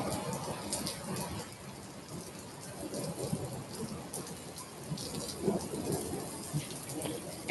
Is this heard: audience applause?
no